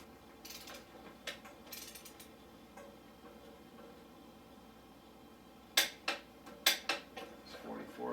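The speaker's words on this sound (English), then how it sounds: "Got my torque wrench, I'm going to set the 44." A torque wrench for installing a KTM rear shock spring is adjusted with faint ticking and clicking, then a series of sharp ratchet clicks comes out near the end in a quiet room.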